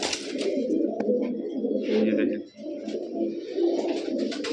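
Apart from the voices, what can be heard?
military pigeons cooing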